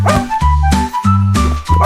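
A puppy's bark-like yips woven into a children's song, repeated several times over bright sung melody and steady music, loud and rhythmic.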